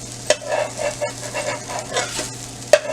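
Methi chilla cooks in a pan with a steady, close sizzle and a few sharp utensil clicks, and there is no talking.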